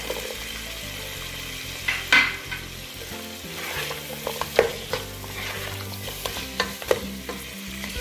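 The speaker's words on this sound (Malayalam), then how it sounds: "നല്ലപോലെ മിക്സ് ചെയ്യാം. ക്യാപ്സിക്കം ചേർത്ത് കൊടുക്കുന്നുണ്ട്." Chicken, vegetables and capsicum stirred in a sizzling pan for macaroni, with a steady fry hiss and scattered scraping spoon strokes, close and moderate in level with no talk.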